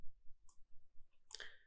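Computer mouse clicks during Photoshop editing: a couple of quick, sharp, close clicks over a faint low hum, no talking.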